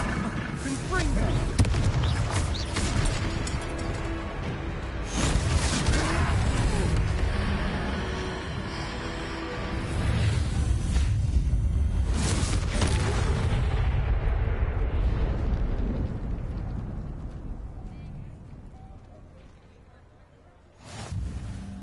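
Repeated Confringo spell explosions from the Hogwarts Legacy video game during a troll battle, dense booming blasts layered over continuous action noise and music, with a final burst after a brief lull.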